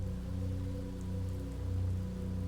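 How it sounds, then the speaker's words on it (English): Heavy rain in the visual novel game Raining City, a steady, dense wash of falling water that holds at an even level throughout, with a faint low tonal hum beneath it. "It was raining and heavily so."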